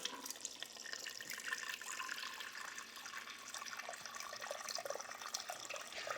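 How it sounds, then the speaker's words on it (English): Tap water pours steadily into a cooking pot being filled for bone broth, a continuous rushing splash heard close and alone for the whole stretch. "All you gotta do is fill your pot with water."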